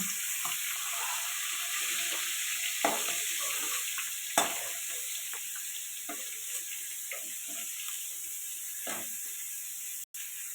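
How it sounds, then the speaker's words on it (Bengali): Fish oil (fish fat) frying in a pan for a Bengali curry, a soft steady sizzle with a few faint utensil taps and scrapes, fairly quiet and without talk. "মাছের তেলটা ভাজা হয়ে গেছে এবার তুলে নেব"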